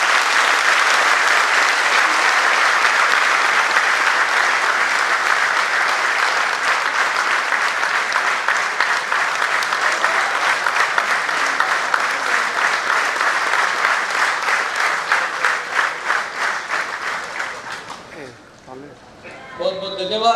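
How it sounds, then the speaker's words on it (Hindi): Audience at a Bharat Vikas Parishad gathering claps loudly and steadily, the applause holding strong before thinning and fading out near the end as a voice begins. "जितनी जोर से तालियां बजाओ उतनी कम है।"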